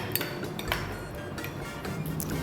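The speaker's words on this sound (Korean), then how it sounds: "설탕이 녹도록 잘 섞어주세요" A spoon stirs sugar into a Thai pork salad dressing, giving light repeated clinks against the bowl, close and fairly quiet, with no talk.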